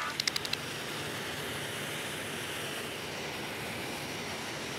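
A passenger airliner at Berlin-Tegel airport produces a steady, distant engine roar that holds level throughout, with a few brief clicks near the start.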